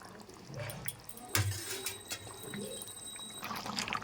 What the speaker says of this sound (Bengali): এবারে ঝোলের মধ্যে মাছটা ফুটুক তারপরে নামিয়ে দেবো